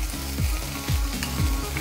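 Beef fillet pieces frying in a frying pan, a steady close sizzle with rhythmic stirring or scraping strokes about every half second, no talk.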